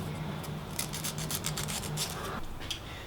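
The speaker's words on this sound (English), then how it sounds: "to smooth the surface, we can also be using very fine sandpaper." Fine 150-grit sandpaper rubs in quick, repeated strokes against a small hard ear mould, a soft scratchy rasping close to the mic.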